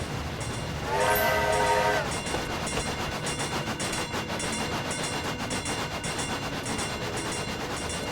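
A train running in the video game A Bumpy Ride, with a loud horn blast early on over steady rhythmic wheel clatter on the track, no talk.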